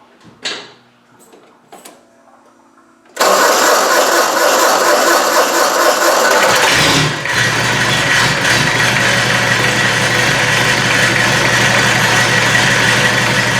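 After a few quiet clicks, a naturally aspirated 2.5 diesel engine with a starting problem cranks without glow plugs and catches, roaring up then settling into a loud, steady rattling idle close by.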